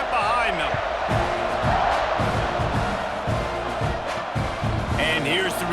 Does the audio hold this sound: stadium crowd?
yes